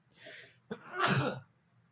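A single sudden sneeze close by, a short sharp intake followed by an abrupt burst of breath, with quiet room before and after.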